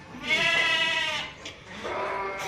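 A sheep gives a long, wavering bleat nearby, followed after a brief pause by a second, softer bleat.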